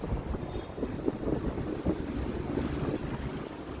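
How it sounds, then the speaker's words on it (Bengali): Sea wind blowing at a Malaysian seaside spot, a steady rumbling buffet of gusts against the microphone, with no one talking. "এখানে সমুদ্রের কত সুন্দর বাতাস আসতেছে"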